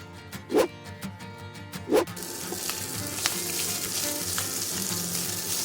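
Shredded adobo fries in a pan with a steady, close sizzle, while a spatula strikes and stirs twice near the start and then scrapes lightly as the crackle continues.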